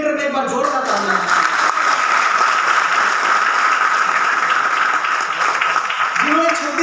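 Loud, sustained applause from an audience at an ITC leaders' business event, steady dense clapping filling the whole stretch, with a voice briefly heard at the start and end.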